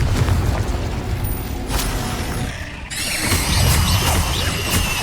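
Spell blasts of fire and explosive curses crackle and boom in the Hogwarts Legacy video game, loud rumbling bursts with a sharp crash near the middle, heard alone over game sound.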